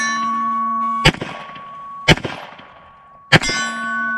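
Lyman 147gr 9mm bullets fired from a Canik TP9SFX strike a steel target, three loud, ringing clangs spaced about a second apart, each leaving a lingering metallic ring.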